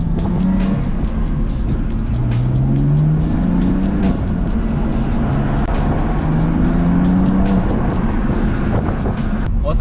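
A BMW F80 M3 on a stock, quiet exhaust accelerates while being driven, its engine a steady loud drone with rising tone sweeps as revs climb, heard continuously from inside the car.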